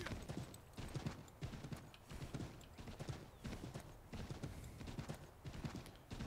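Horse hooves clip-clop at a steady trot during riding in Assassin's Creed 3, a continuous brisk rhythm of close hoof falls over a low, soft background.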